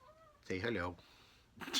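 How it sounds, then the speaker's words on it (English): A house cat screeches in a loud, drawn-out meow, followed by a second shorter cry, close by, with a brief spoken line in between. "one of my kitties is screeching at me"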